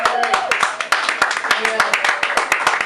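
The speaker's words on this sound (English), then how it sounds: "can you clap for all the other storytellers?" An audience at a storytelling event claps in scattered, uneven bursts for the storytellers, fairly loud and close, mixed with voices cheering and calling out.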